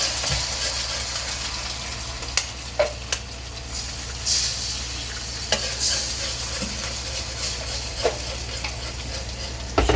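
An egg fries and is stirred in a pan for garlic fried rice, giving a steady sizzle under occasional scraping knocks of a utensil, close by and without talk.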